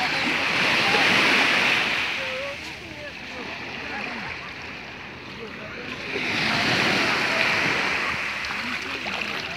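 Waves roll and wash onto a small beach in a steady, rushing surge that swells twice, with wind buffeting the microphone and a voice speaking faintly beneath.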